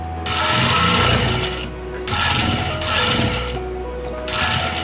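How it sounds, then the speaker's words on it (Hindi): A sewing machine stitches along the edge of fusing on a neck or sleeve piece, its steady mechanical whir running in bursts of about one and two seconds, close and loud, with no talking. "अब सिलाई यहाँ से स्टार्ट होगी। बिल्कुल फ्यूजिंग के साथ साथ सिलाई चलाएंगे।"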